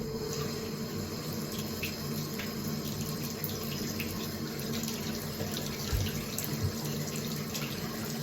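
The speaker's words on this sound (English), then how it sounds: "Let us begin with a soothing foot scrub. Nice hot water." Hot water runs steadily from a tap for a foot scrub, a continuous close splashing hiss with no voices.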